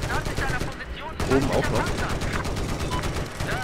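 Gunfire in the Battlefield 4 video game on PC, rapid bursts of automatic shots crackling continuously under someone speaking German.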